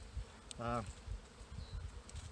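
A single honeybee buzzes briefly and close at a spring hive inspection, a short droning hum amid low background rumble and handling noise.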